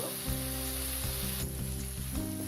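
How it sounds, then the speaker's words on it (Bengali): Potato pieces coated in spices fry in a pan, giving a steady, close sizzle with a low background hum and no talking. "এই আলুটাকে আমি এখন দুই মিনিটের মতো ভুনা করে নেব"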